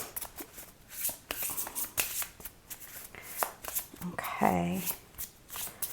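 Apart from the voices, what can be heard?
pulling a card from a pile of oracle cards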